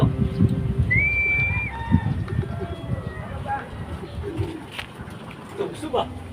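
Racing pigeons coo in a loft during a race arrival, soft low cooing repeated under nearby Tagalog talk and a few thin bird whistles over background bustle.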